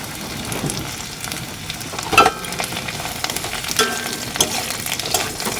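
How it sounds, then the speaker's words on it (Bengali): Onion, carrot and capsicum fry lightly in a pan with a steady close sizzle, broken by clinks and scraping stirs of a spatula, with no voices. "সমস্ত সবজিগুলো আমি হালকা করে ভেজে নেব"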